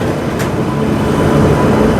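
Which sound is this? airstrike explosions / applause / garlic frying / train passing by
train passing by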